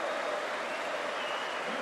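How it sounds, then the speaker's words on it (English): Warm applause from a football stadium crowd at St Andrews for Birmingham versus Ipswich, a steady, fairly faint wash of clapping with no voices standing out. "Warm applause all round St Andrews for his efforts on his debut."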